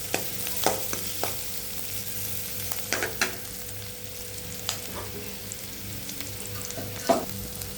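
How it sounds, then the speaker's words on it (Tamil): Onions and greens frying in a pan for a South Indian spinach kootu, giving a steady soft sizzle with intermittent clicks and scrapes of stirring, close and moderately quiet, with no talking. "இதெல்லாம் வெங்காயம் வதங்கிடுச்சு"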